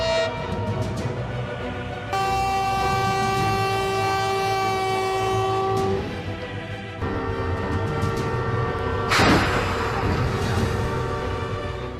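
A train rolls past close by, its loud horn blaring in long sustained tones over a heavy rumble and rattle of wagons, with a sharp metallic screech near the end.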